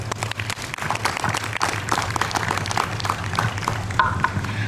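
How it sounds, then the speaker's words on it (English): An audience applauds in a room during an Osage history and culture presentation, with steady, dense clapping that holds across the whole stretch at moderate loudness beneath a low background hum. "So please give her a round of applause."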